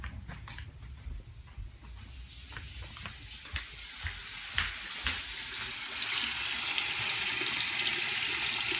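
Water runs steadily from a shower in a building with a faulty water heater that delivers only lukewarm water, a broad hiss that builds and grows louder as the flow continues, with scattered small clicks and no talk.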